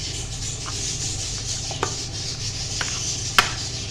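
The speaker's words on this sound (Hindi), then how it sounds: "इसको हमने अच्छे से मिक्स कर लेना।" Chicken being stirred with fresh cream in a marinade, a steady wet scraping and rubbing with a few sharp utensil clicks against the bowl, close and fairly quiet.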